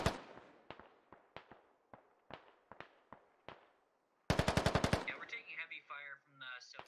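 Bursts of machine gun fire in a military shooter game, with several separate sharp shots spaced out, then a rapid rattling burst followed by a voice and radio chatter.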